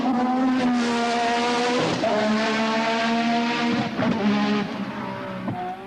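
A Cosworth turbocharged Formula One engine at full race boost screams nearby as its wheels spin on a wet surface, a loud, continuous high-revving whine that drops and climbs in pitch several times.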